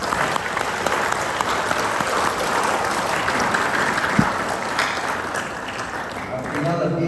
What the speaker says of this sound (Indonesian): Tepuk tangan buat tersebut.